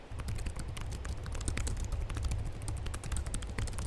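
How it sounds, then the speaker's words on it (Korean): Rapid, fairly quiet typing on a Samsung Galaxy Book Pro laptop keyboard, a continuous run of light key clicks midway between crisp and soft. "키보드의 타건은 또각또각과 부드러움의 중간 정도라는 생각이 드는데요"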